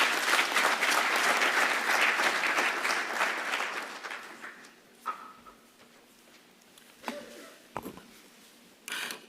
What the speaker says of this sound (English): A round of applause for Dr.